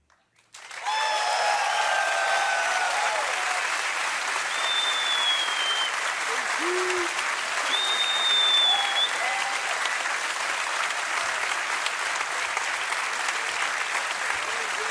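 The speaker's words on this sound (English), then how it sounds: "Clap." Crowd clapping steadily at The International 2018 Dota finals, a dense, sustained wash of applause from a large audience that swells slightly midway and carries on without a break, with a few faint voices and whistles mixed in.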